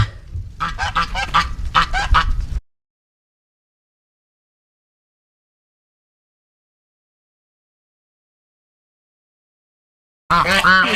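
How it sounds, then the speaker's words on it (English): Loud goose honking, a busy burst of calls up close, then about eight seconds of silence before another loud round of honks. "The geese."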